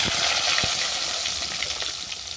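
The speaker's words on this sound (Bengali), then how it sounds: "এরপর আমি সবজিগুলোকে তুলে দেবো দিলাম বেগুন" Eggplant pieces sizzle and hiss steadily in hot oil in a pan, a continuous bright frying crackle with a few stirring knocks, close and alone, while spiced fish curry with drumsticks is cooked.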